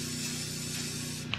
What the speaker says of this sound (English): I'm gonna go ahead and top coat it in this satin clear finish